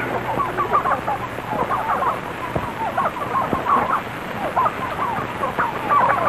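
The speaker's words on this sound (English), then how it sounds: "We could use about 20 turkeys." Turkeys on a farm gobble and cluck in a busy, continuous flock, many overlapping calls close by with no talk.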